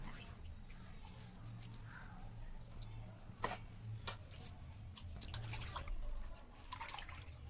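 Sliced potatoes are washed by hand in a bowl of water, giving soft splashing, squishing and dripping sounds at close range under someone talking.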